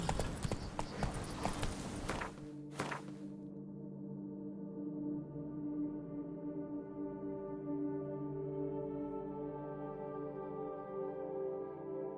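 A horse in a PS4 video game moves with rhythmic hoof clip-clops over a loud, busy soundscape at first, then a steady hooved gait continues under a sustained, tonal game backdrop.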